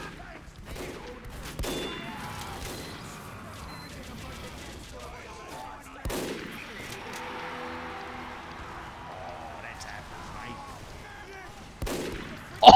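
Gunfire in the video game Fortnite, scattered sharp shots spaced several seconds apart with a burst at the end, under steady game ambience and a voice talking over it.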